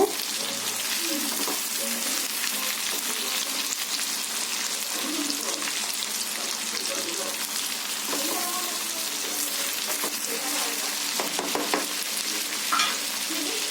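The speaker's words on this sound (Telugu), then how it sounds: "ఇప్పుడు ఇందులోనే మనం కట్ చేసి పెట్టుకున్న దొండకాయ ముక్కలు వేసుకుందాము దొండకాయ ముక్కలు వేసుకొని కలుపుకుందాము" Cut ivy gourd pieces hit a hot oiled pan and get stirred, giving a loud continuous sizzle with scraping spoon strokes and small clinks running throughout.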